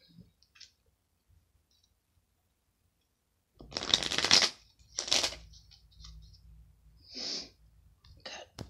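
Tarot cards shuffled by hand in a few quick riffling bursts, with soft taps and a breath or two between them, close by.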